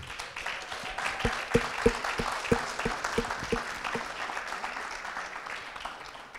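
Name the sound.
audience applause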